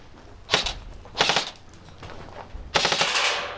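Four separate bursts of rapid gunfire crack out during tactical shooting training, each a quick string of shots with short quiet gaps between the bursts.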